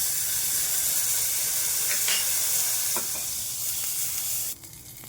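Butter sizzles steadily in a well-heated pan, a continuous frying hiss with a few soft stirring scrapes, close and even throughout before the hiss drops away near the end.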